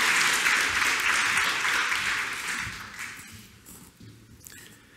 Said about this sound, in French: Je vous demande d'applaudir Christophe Cassou, climatologue et directeur de recherche au CNRS